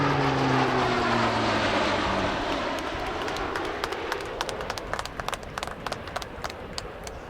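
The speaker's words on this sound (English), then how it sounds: "the CC-130J performed a couple of photogenic flypasts before coming in to land" A Lockheed CC-130J Hercules turboprop makes a flypast at an airshow, its propeller drone loud and near at first, then fading as it passes, leaving crowd noise and clicks behind.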